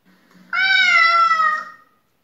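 A domestic cat gives one clear, drawn-out, high-pitched meow lasting about a second. It sounds close and stands alone against near silence.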